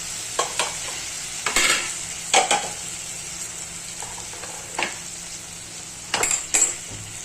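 Peas and potatoes frying in a pan, a low steady sizzle under intermittent clinks and scrapes of a spoon stirring against the metal, close by, with no talk.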